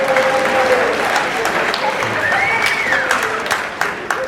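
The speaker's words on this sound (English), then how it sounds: "round of applause for our volunteers." Audience at a comedy hypnosis show applauds its volunteers, a dense, steady burst of clapping from a crowd that carries through the whole stretch at close, full volume.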